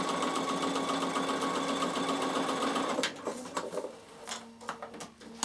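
A Bernina sewing machine runs steadily and loudly for about three seconds, stitching a half-inch seam in fabric, then stops into scattered clicks and fabric handling noises nearby.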